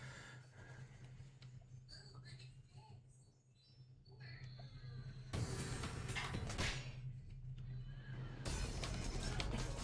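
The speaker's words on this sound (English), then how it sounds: "Horsey time. Horsey." A horse neighs in the video game Warriors Orochi Z, set among busy battle sounds and game music that grow louder partway through.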